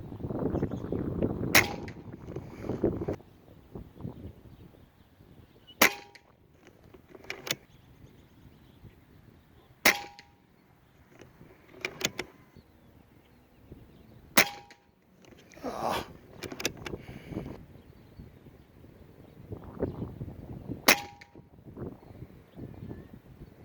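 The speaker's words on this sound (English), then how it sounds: "now I want to show you me shooting the venturi Avenger at 50 yards through the side shot with the same pellet" A Venturi Avenger air rifle fires pellets at a 50-yard target, giving about six sharp, loud cracks spaced several seconds apart, with softer handling and rustling noise between shots.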